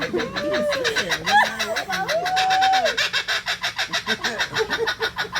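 At McCarthy Wildlife Sanctuary a kookaburra calls with gliding hoots and chatter that break into a rapid, pulsing laugh-like cackle, loud and close.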